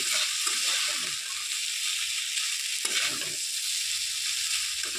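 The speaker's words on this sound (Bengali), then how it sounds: "এদিকে রুটিটা কিন্তু আমি একটু ভেজে নিয়েছি তো একটু লাল লাল হয়ে গেছে" Roti pieces fry in a pan while being stirred, a steady bright sizzle that runs throughout, with a few bursts of scraping and rattling stir strokes near the start and middle, and no voices.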